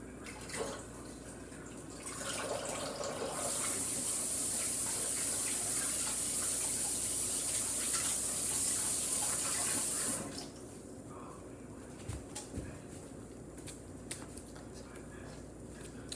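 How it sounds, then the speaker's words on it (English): A kitchen tap gushes steadily for several seconds while hands sticky with homemade air-dry clay are rinsed beneath it; the flow then stops, leaving quiet room tone and a few faint knocks. "And then wash your hands."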